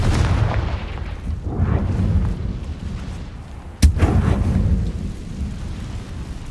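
A Confringo blasting spell erupts in Hogwarts Legacy with a sharp, loud crack midway, set among deep rumbling booms and crackling debris that roll and fade around it like distant thunder.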